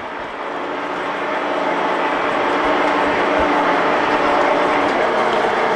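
A Pratt & Whitney Model B 6-inch metal shaper runs with its ram going, producing a loud, continuous mechanical clatter and rumble that swells within the first second and then holds steady.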